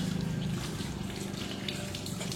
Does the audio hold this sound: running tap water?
yes